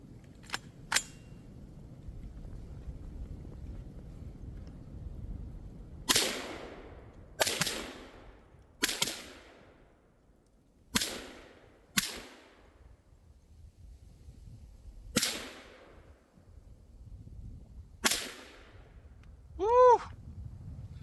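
Suppressed rifle shots through a can, fired as rounds go downrange with a micro prism scope: about eight sharp cracks spaced irregularly over twenty seconds, each with a short decaying tail, over quiet outdoor background.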